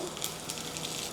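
Mustard seeds, cumin, dried chillies and curry leaves tempering in hot oil give a steady, close crackling sizzle with no talk.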